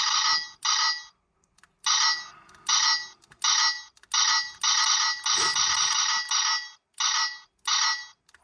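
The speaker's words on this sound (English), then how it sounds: "that is the ching ching, and when you close the blades again, you get that ching ching noise" Repeated bright metallic electronic ching effects from a 1997 Star Trek: The Next Generation electronic toy Klingon knife, about a dozen short bursts in quick irregular succession, loud and close with brief gaps between.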